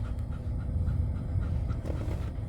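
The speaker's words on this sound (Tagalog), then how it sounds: "hinihingal nga si Troy sa likod oh" A dog named in passing is panting hard after a walk at a playground, a steady low rhythmic huffing that runs the whole time, close by and fairly loud, with no talk over it.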